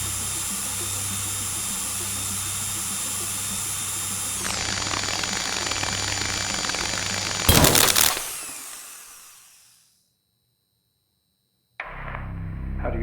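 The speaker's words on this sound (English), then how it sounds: "Proceed to drill the surface." A high whining drill grinds into a surface in the video game Stories Untold, shifting pitch, then a harsh burst before the sound winds down into silence and a new tone starts.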